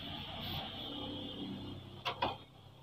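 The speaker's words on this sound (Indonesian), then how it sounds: "Nanti printer akan berbunyi. Nah, ada bunyi gerakan di dalamnya." Steady mechanical whir from an HP Deskjet inkjet printer running a nozzle cleaning cycle, followed by two brief clunking movements near the end, close and moderately loud.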